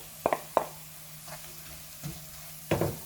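Spices fry in a pan for a spinach curry while a utensil stirs them, giving several sharp knocks and scrapes over a soft, close sizzle.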